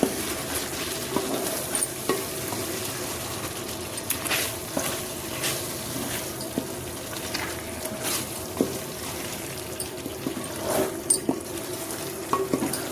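Onion paste frying in a pan for biryani while being stirred, a quiet steady sizzle punctuated by repeated scraping and tapping strokes of the spoon, close and without talk.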